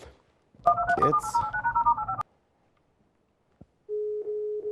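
Telephone speed-dial tones: a quick burst of dual-tone dialing beeps, then a pause, a single click, and a steady ringback tone, all close and clear with no talking.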